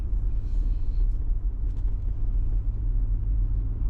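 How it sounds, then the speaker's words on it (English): A Toyota Land Cruiser with P0420 and P0430 codes, apparently needing catalytic converters, drives on a test drive; a steady low engine and road rumble continues throughout from inside the vehicle. "So let's go for test drive and see what happens."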